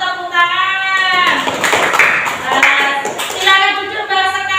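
Schoolchildren in an Indonesian classroom clap their hands for a group's answer, a loud burst of clapping mixed with children's voices and chatter.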